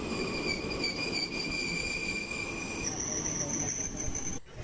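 A local passenger train on the Coimbatore–Salem route to Bangalore rumbles steadily on its rails, heard from inside a compartment, with high sustained wheel squeal ringing over the noise and no talk.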